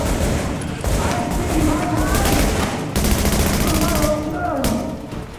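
Dense, continuous automatic gunfire in The Division on PC, loud rapid volleys with booming impacts layered over one another, while people talk underneath.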